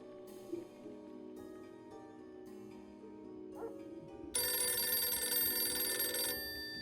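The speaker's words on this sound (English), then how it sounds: "Oh, now I have to answer the phone." A telephone rings in the Dracula 3: The Path of the Dragon video game, a bright, steady bell tone that grows much louder partway through and carries on for about two seconds, over a low background hum.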